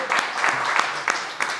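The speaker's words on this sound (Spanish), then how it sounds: "Un aplauso para Iván, por favor" Brief, sparse applause from a small audience at a book presentation, a few distinct claps standing out over a soft background murmur.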